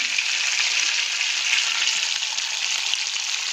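Food sizzling and being stirred in a hot pan while cooking butter paneer masala, a steady loud frying hiss throughout with no talking.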